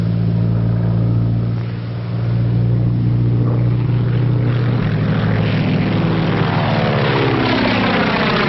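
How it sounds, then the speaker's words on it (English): A small propeller plane carrying a smoke attachment drones overhead, its engine a steady, loud tonal hum that shifts pitch partway through as it passes, with no voices. "Just spotted kid's plane with smoke attachment."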